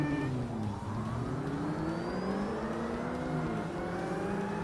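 Engine of an Evo race car in a Forza Motorsport point-to-point event revs high and steady, its pitch climbing and shifting through gears in a continuous loud drone with no talk over it.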